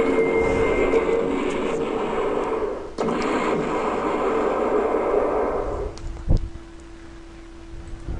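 Level bomber aircraft attacking in the wargame Panzer General, heard as a steady droning engine roar with a sharp cut near three seconds, then a thinner hum and a single thud near the end.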